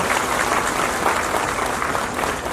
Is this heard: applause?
yes